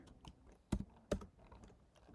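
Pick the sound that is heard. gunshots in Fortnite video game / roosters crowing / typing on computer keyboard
typing on computer keyboard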